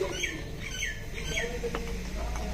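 Crows caw harshly several times in a row, the rhythm repeating, over a noisy outdoor background in a home kitchen while achar is being made. Low voices murmur faintly underneath.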